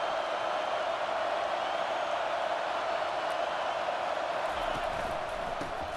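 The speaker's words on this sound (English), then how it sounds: "It is getting loud as this crowd tries to help its defense." A loud, steady crowd roar at a college football game fills the whole stretch, a dense wash of many voices cheering without a break in a packed stadium.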